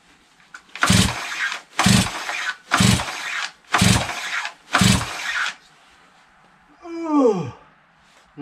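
A Stihl TS400 gas cut-off saw on choke is pull-started five times in a steady rhythm, each yank a loud rasping whir, followed by a short sputtering cough as the engine nearly catches.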